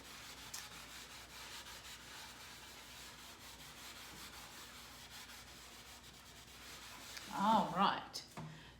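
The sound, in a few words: eraser rubbing letters off a board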